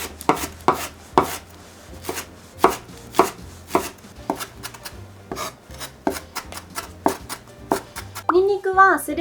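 Steady knife chops on a cutting board as a long leek is minced, crisp regular taps at a brisk rhythm, with a brief bit of talking near the end.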